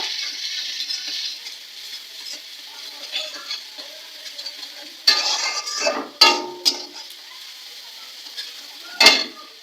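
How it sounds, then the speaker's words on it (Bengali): Onion stirred and fried in a pan while preparing mutton curry: a steady sizzle with scraping stirs and several sharp utensil knocks against the pan, close up, with no talking. "পেঁয়াজটা একটু নেড়ে দেবো"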